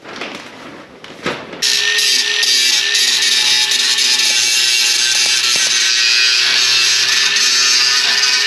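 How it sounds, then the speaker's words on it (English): An angle grinder whines at high pitch, starting abruptly after a few handling knocks and then running steadily and loudly close by during Ford F350 paint prep, with no talk over it. "I need my grinder."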